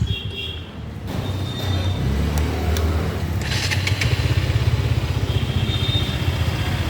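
A KTM Duke 200 motorcycle revs through its exhaust, a steady low thumping engine drone that swells and holds loud and close with a clattering edge, no talk over it.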